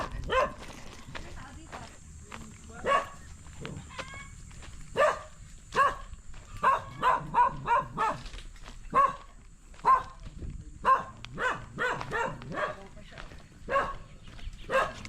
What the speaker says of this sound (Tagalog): Galit na galit yung aso.